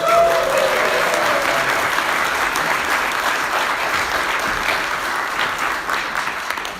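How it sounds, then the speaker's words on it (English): A conference audience gives sustained, dense applause at the opening of CPOSC 2023, the first in-person gathering in years; the clapping stays steady and full throughout with no talk over it. "Applause now."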